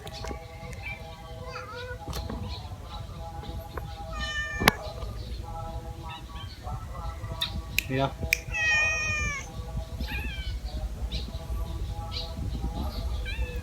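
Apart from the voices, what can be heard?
cat meowing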